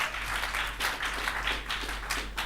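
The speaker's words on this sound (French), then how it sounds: "Let's clap for Jesus." A church congregation claps for Jesus at a healing service, steady, fairly distant applause filling the short stretch without pause, with a faint low hum beneath.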